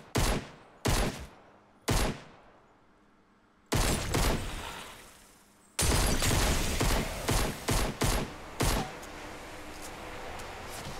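Gunshots from the Fortnite Battle Royale video game on PC: separate loud sharp bursts spaced irregularly, then a longer stretch of heavier rapid fire with repeated cracks, all without talk.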